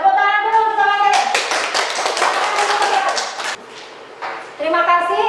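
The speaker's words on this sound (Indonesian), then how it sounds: "tepuk tangan dulu bersama kalian." A school class claps hands together in a brief burst of rhythmic clapping between stretches of a voice speaking near the microphone.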